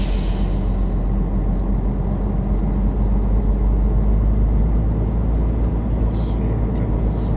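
A vehicle rolls through the fuel islands of a PETRO truck stop in California, a steady low engine rumble and road noise from inside the cab with no break.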